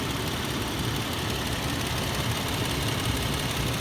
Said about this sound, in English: My phone does pick up a small engine noise, so you'll get like the ticking and stuff from the belt chain.